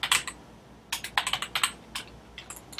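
Fingers tap out bursts of keystrokes on a computer keyboard while HTML code is written, close and crisp: a short flurry, a pause, then a quicker run of clicks and a few scattered taps, with no voices.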